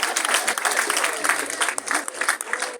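An audience breaks into applause, a dense burst of clapping with low murmuring voices mixed in underneath.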